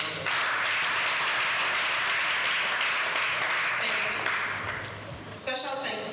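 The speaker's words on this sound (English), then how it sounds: "Please give them a round of applause." An audience claps for a support team at a live event, a dense, sustained wash of applause that fades near the end as a voice begins speaking.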